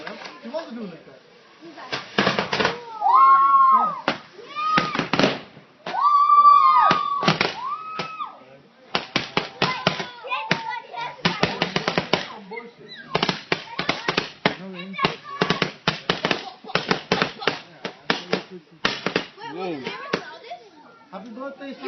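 Fireworks and firecrackers go off at a birthday celebration in rapid volleys of sharp cracks and pops, some bursts crowded together, loud and close, with people talking and shouting between and over the blasts.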